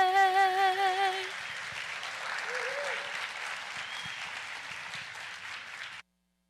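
An audience applauds warmly after a national anthem at a school district address. The clapping swells steadily and stops abruptly, while the last sung note fades out over its opening seconds.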